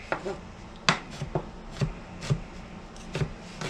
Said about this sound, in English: And that's easy enough to do with a good sharp chef's knife. You just sort of rock it.